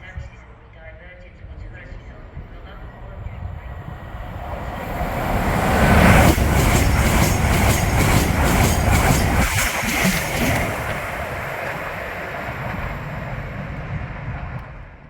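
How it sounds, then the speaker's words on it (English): An LNER Azuma express train speeds north through Northallerton station, a broad rushing roar that builds as it nears and peaks with rhythmic wheel clatter before slowly fading, with voices talking underneath. "an LNER Azuma speeds through North Allerton heading north"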